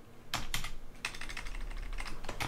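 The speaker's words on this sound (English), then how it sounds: "so we can type" Typing on a computer keyboard at a Raspberry Pi console, a quick run of crisp key clicks in bursts with short pauses, close and fairly loud, no voices.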